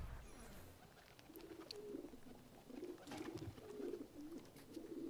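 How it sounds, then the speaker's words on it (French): Pigeons coo in the streets of Renaissance Italy in the game Assassin's Creed 2, soft repeated throaty calls over a faint ambient city background. "C'est vrai qu'avant ils utilisaient les pigeons voyageurs."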